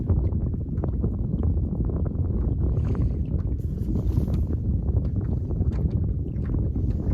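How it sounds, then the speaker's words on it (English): Steady, heavy wind buffeting the microphone with a constant low roar while fishing in fall, loud and continuous throughout, with faint water and rustling underneath. "It's pretty windy out here today."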